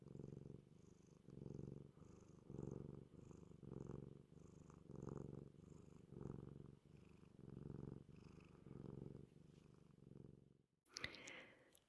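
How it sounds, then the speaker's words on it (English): A cat purrs softly in close, even rhythmic pulses of breathy rumble, faint and intimate, continuing for several seconds before a brief rustle at the end. "I really like cat purring sounds."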